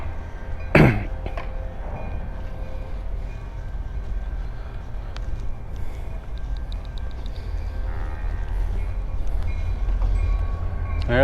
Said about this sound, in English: there goes the train